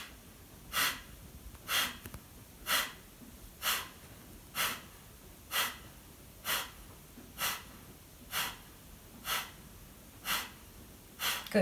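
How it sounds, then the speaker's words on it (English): Rapid, forceful nasal exhalations from a yoga breathing exercise, about a dozen sharp puffs spaced evenly roughly a second apart, close and clear with no talking. "The rhythm is like this. Exhale, exhale, exhale, exhale."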